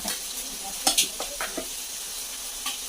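Food frying in a pan in a village home kitchen: a steady close hiss and sizzle with a few brief clicks and scrapes of stirring scattered through it.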